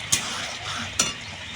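Egg chilli being stirred in a frying pan, with a steady soft sizzle and two brief scraping clicks of the utensil against the pan, close and alone.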